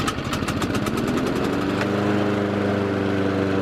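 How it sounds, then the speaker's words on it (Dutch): Loud lawn mowers run outside on a hot day, a close, continuous buzzing engine drone with a rapid pulsing chatter at first that settles into a steady hum. "Met grasmaaiers die keihard aanstaan."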